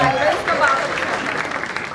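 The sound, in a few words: audience applause for Nikhil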